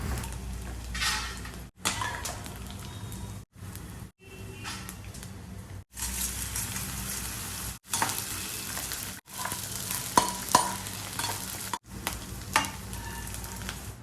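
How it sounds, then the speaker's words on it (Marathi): Pieces of edible gum frying in ghee in a pan, a close bubbling sizzle with light crackles, heard in several short stretches separated by abrupt breaks. "आता या तुपामधलं पाववाटी तूप घालून त्यामध्ये डिंक तळून घ्यायचं आहे"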